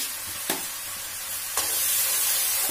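Green chili, tomato and onion frying in an oil-filled pan, a steady close broadband sizzle with two brief stirring knocks and the sizzle swelling louder after the second addition.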